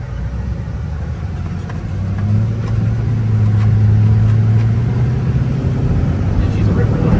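An LBZ Duramax diesel dually truck rumbles steadily with a deep low drone that swells slightly partway through, running under people talking nearby.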